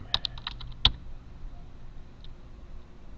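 A computer keyboard gives a quick burst of close key clicks while a name is typed into a PowerPoint slide, followed by a single isolated tap and quiet room tone.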